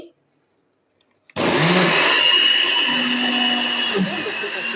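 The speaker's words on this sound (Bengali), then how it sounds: "রাতের বেলা হচ্ছে এখন মাংস রান্না করব সেজন্য হচ্ছে পেঁয়াজটা একটু ব্ল্যান্ডার করে নিচ্ছি" An electric blender starts abruptly after a near-silent pause and then grinds onions with a loud, steady whirring roar that runs to the end, dipping slightly near the close.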